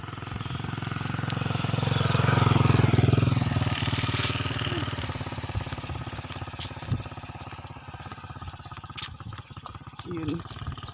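A motorcycle engine running near a rural path, a low droning rumble that swells to its loudest around the middle and then fades, with insects chirping faintly and people talking in the background.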